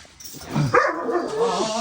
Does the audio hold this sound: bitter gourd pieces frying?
no